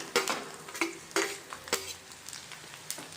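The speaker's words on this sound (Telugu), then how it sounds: "ఇలా వెల్లుల్లిపాయ, మినపప్పు, ఆవాలు ఫ్రై అయ్యాక ఇప్పుడు 5-6 ఎండుమిర్చిల తుంపి వేసుకోవాలండి." Garlic, urad dal and mustard seeds with torn dry red chillies frying in a pan for tomato dal, with several sharp utensil clinks and scrapes against a quiet sizzle, no talk.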